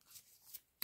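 A deck of tarot cards is shuffled in a brief, soft riffle of papery flicks that ends in one sharper, louder burst of cards snapping together, close by with no talking.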